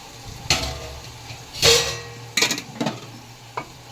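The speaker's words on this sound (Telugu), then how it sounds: "ఇప్పుడు మంచిగా కలుపుకుందాం" Fish curry in the style of Telangana pulusu is stirred in a pan, with a few separate scraping, clattering strokes of the spoon against the metal, some louder and some softer, over a faint sizzle and with no voices.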